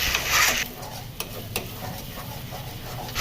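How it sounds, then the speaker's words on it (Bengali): A paste of cashews and green chillies being stirred in a wok for a cauliflower roast, starting with a loud burst of sizzling that settles into a quieter steady scraping and frying noise. No voices are heard. "বাদাম দেওয়ার কারণে অনবরত নাড়তে হবে, নইলে কড়াইয়ের নিচে লেগে যেতে পারে।"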